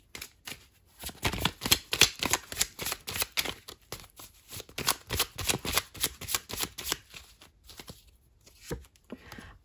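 A deck of tarot or oracle cards is shuffled by hand before a reading, giving quick riffling bursts in an uneven rhythm for most of the stretch. The sound is close and clear, and no one speaks over it.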